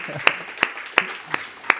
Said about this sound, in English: Big applause for Sven.